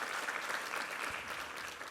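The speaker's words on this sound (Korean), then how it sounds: "우리 여성 중창팀에게 한번 힘찬 격려 박수 부탁합니다." During a Sunday worship service, the congregation gives a women's vocal ensemble an encouraging round of applause, a dense, even wash of many hands clapping, steady and somewhat distant for its brief length, with no talking.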